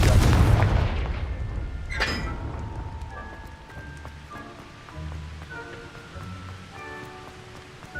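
A Confringo spell in Hogwarts Legacy erupts in a loud deep blast that fades into a crackling, rain-like rumble, with a second burst a couple of seconds later and faint game tones after.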